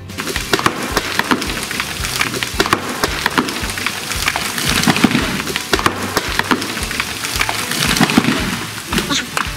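A felled pine that was leaning back cracks and crashes down, making a loud, sustained crunch of splintering wood and breaking branches that rolls on for several seconds.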